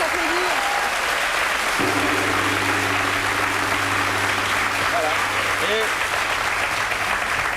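Sustained, dense applause from a French television studio audience, loud and continuous throughout, with a low steady hum and a few faint voices underneath.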